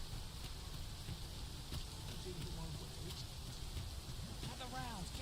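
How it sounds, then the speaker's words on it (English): Steady rain falling in the Dragon's Dogma video game world, a constant even hiss running throughout, with some faint background game sounds and brief voice-like tones near the end. "And it's raining."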